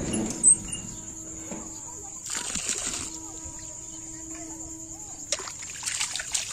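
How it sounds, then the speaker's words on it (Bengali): Old flower water is tipped from a bucket into a pond, making one brief splash that stands out over faint outdoor background noise. "এই যে আমি ফুল জলগুলো ফেলে দিলাম।"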